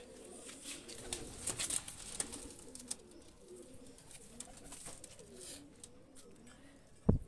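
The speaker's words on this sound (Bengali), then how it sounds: "ছেড়ে দেখাচ্ছি আমি দুইটা কবুতর" Pakistani high flyer pigeons coo softly nearby, low rolling calls repeating through the stretch amid faint rustling and scattered clicks, ending with a sharp thump.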